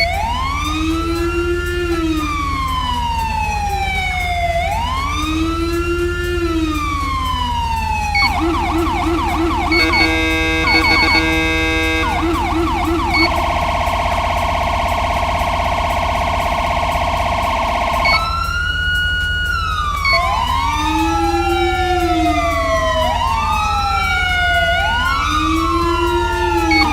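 A loud synthetic video game police siren from the Los Santos County Ultra Pack cycles through several patterns: rising-falling wails, a rapid yelp, a steady two-tone, then wailing again, with a low engine hum underneath.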